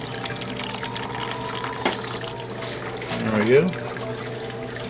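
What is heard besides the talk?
water trickling during homebrew fly sparging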